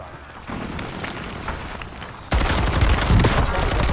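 Air strike bombs falling in the Call of Duty Warzone video game, a rumbling barrage of blasts that grows suddenly louder and denser partway through, continuous and heavy.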